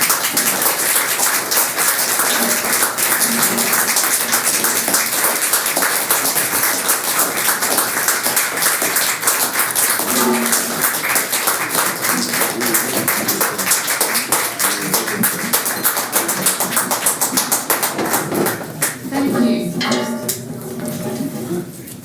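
An audience at a library celebration applauds at length, dense steady clapping that thins out near the end as a few voices come through.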